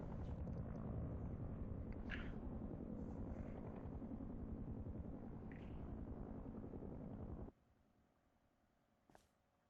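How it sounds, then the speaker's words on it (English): Patrol helicopter in the video game Rust, a steady low rotor rumble and drone that holds for several seconds and then cuts off abruptly, followed by quiet. "you see, patrol heli is coming back"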